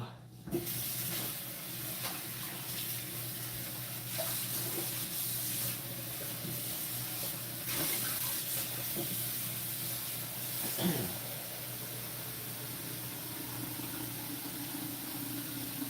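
Freezing cold water runs from a kitchen tap into a pot for parboiling potatoes, a steady close hiss and splash that carries on without a break, with faint background noise.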